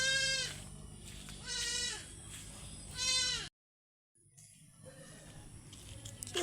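An orphaned baby goat bleats three times in loud, wavering cries a second apart, then after a short silence only faint rustling remains.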